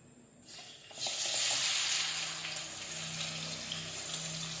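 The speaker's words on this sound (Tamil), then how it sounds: "நான் வெங்காய தக்காளி எடுத்து நல்லா ஃப்ரை பண்ணிக்கணும்" Onion and tomato dropped into hot oil in a pan, a sudden loud sizzle that settles into steady crackling frying, close by, with no talk.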